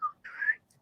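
A person whistles a short imitation of a warning whistle chirp: a brief high note followed by a longer, slightly rising whistle, faint and alone.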